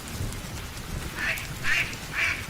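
A cartoon duck gives three loud, distinct quacks in quick succession, set against a rustling, noisy background with no talking.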